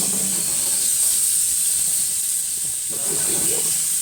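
A New York steak sizzles on a grill just after being flipped, a steady broad hiss filling the whole clip, with a voice speaking faintly underneath near the end.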